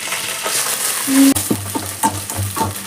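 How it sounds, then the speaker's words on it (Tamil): Ginger garlic paste frying in hot oil with mustard seeds, fennel, cumin and curry leaves for a country chicken curry, a steady close sizzle broken by a few stirring scrapes, no voices. "இஞ்சி பூண்டு பேஸ்ட்டு நல்லா பொன்னிறமாக வர வரைக்கும் கொஞ்சம் ரெஸ்ட் ஆகட்டும்"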